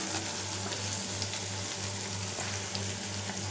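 Finely chopped mutton sizzling steadily in a frying pan, a continuous close crackle and hiss with a low hum underneath and no voices.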